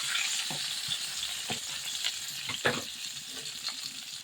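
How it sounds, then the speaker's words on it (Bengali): Whole garam masala and chopped onion fry in hot oil, giving a steady close sizzle broken by several scraping stirs at irregular intervals, with no talking. "এখন আমি ফোড়নে আস্ত গরম মশলা দিয়ে দিলাম এবং সাথে পেঁয়াজ কুচি দিয়ে দিব বেশ কিছু পরিমাণ।"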